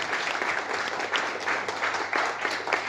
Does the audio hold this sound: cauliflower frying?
no